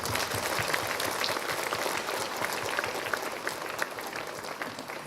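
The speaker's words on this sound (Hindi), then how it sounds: "हम लोग तालियों की गड़गड़ाहट के द्वारा हम लोग उनका स्वागत करेंगे" A church congregation applauds to welcome Bishop Theodore at a Maundy Thursday Mass in Mahu, steady sustained clapping filling the hall throughout.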